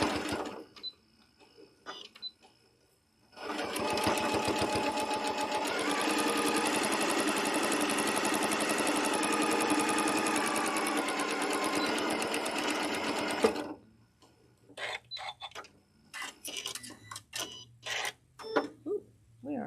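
A sewing machine stitches small stitches in one long steady run of rapid needle clatter, close and loud, then stops, followed by scattered handling clicks and brief taps.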